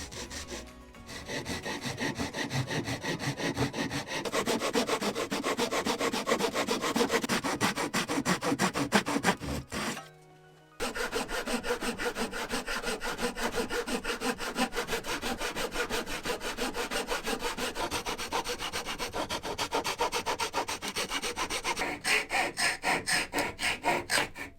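A hand saw cuts through wood at a right angle, held square by a clamped saw guide. Steady rhythmic rasping strokes run close and loud, pausing briefly midway and then continuing.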